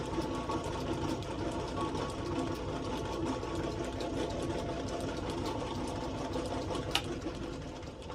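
A lathe undercutting a metal shaft gives a steady, close mechanical whir and hum with constant vibration throughout and no pauses, plus one faint tick near the end and no speech.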